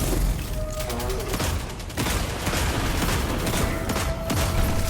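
Grenades and gunfire in Destiny 2 sound as dense bursts of booming blasts and shots, loud and continuous over the whole span, with game sounds and some voices underneath.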